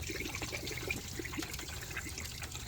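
Water flushing out of the bottom of a Mercury Mountaineer radiator, a steady trickling splash that runs continuously at a modest level.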